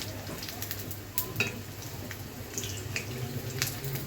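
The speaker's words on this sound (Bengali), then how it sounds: "পিঠা ভাজতে হয় মিঠা জালে মানে হালকা জালে হচ্ছে পিঠা ভাজতে হয়" Palm fruit pitha cakes fry in oil over low heat with a steady, soft sizzle and occasional small crackles, close by and fairly quiet, with no talking.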